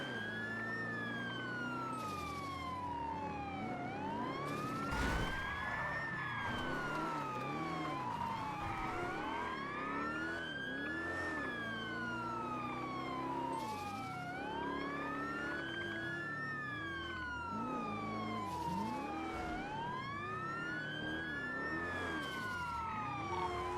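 Police car sirens in the game GTA NoPixel wail continuously, several overlapping rising-and-falling tones layered together, with engine and road noise beneath them and no talk.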